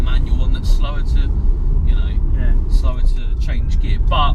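A twin turbo Toyota Supra MK4 automatic accelerates with a heavy low engine rumble that holds steady, while someone talks over it.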